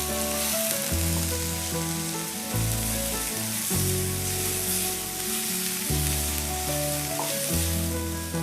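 Onions sizzle steadily in hot oil nearby, punctuated by periodic stirring scrapes, over a faint background hum with no voices.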